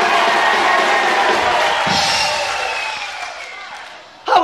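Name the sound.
audience applause and cheering for Buddy Holly and the Crickets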